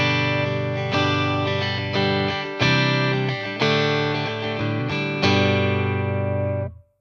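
A clean electric guitar through the acoustic amp setting of a Boss Katana 100 1x12 combo strums sustained chords, bright and ringing with light shimmer, played alone for several seconds before fading out.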